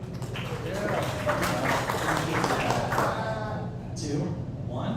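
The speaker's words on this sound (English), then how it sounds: "Clap it up, parents." A comedy club crowd of parents claps in a steady, dense patter for a few seconds before fading, with voices mixed in under the applause.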